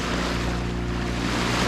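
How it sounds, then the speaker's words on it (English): A sailboat motor-sailing on the open ocean in calm, windless conditions gives a steady, loud wash of water and engine drone, continuous and close, with no voices. "Now we're motor sailing because there's no wind."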